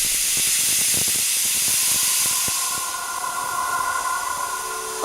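A pressure cooker on a kitchen stove lets out a loud, steady steamy hiss and whistle that holds for several seconds, with a thin tonal whine running through it and no one talking.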